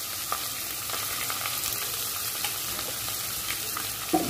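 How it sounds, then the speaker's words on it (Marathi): Chopped onions sauté with garlic and curry leaves in a pan for Malvani-style prawn curry, a quiet, steady sizzle with occasional light stirring taps. "कांदा नरम होईपर्यंत आपण परतून घेऊया"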